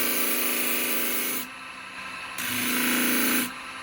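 Wood being sanded on a powered sanding pad, a loud steady grinding rasp in two long passes with a short quieter gap between.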